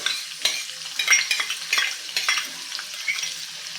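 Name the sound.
chopped onion frying in oil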